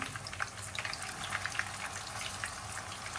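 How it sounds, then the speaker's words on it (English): Chicken kofta fries in hot oil until light golden brown, a steady close sizzle with small crackling pops scattered throughout, no voices. "So we are going to fry it until it becomes very light golden brown."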